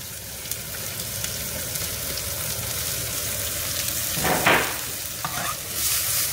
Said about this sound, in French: J'ai pris les oignons rouges qu'on va faire revenir dans l'huile d'olive.